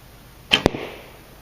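Arrows hitting a Rinehart RhinoBag archery bag target, two quick sharp impacts a fraction of a second apart, each a crisp thwack with a short fading rattle, close and alone.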